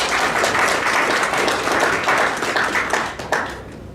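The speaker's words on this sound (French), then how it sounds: "je voulais qu'on applaudisse à ce concept d'entrepreneurship" Audience applause at an official diaspora launch ceremony: dense, steady clapping from a crowd filling the room, holding level for about three seconds before thinning and fading out near the end.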